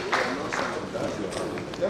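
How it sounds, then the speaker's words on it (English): Applause from a conference audience for a bishop being called up, a short burst of scattered clapping at moderate distance. "Please, let's give him a round of applause."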